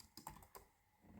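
Typing on a computer keyboard while web-editing, with a few soft, separate key taps spaced unevenly and then a short pause, quiet and close with no voices.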